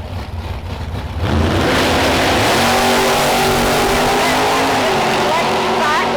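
No-prep drag racing cars launch and accelerate hard down the Ohio Valley Dragway strip. A loud engine roar builds after a quieter start and holds steady, with an announcer talking over it.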